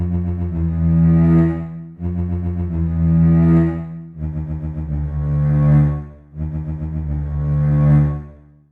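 Self-made game music track from a GameMaker RPG, with an 8-bit effect: a loud, tonal repeating phrase in four even swells about two seconds apart, each rising then falling away.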